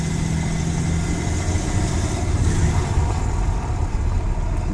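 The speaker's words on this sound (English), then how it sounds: "Meaty BMW 6-cylinder engine," A meaty BMW six-cylinder car engine runs steadily near an idle, a close, loud, even rumble with a deep low hum throughout and no talking over it.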